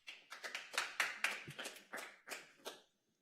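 A small audience at a city planning commission meeting claps briefly, a dozen or so sharp, fairly distant handclaps that swell and then fade out within about three seconds, with no voices.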